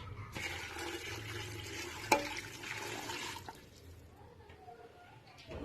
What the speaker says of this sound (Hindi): और पानी डालूंगी।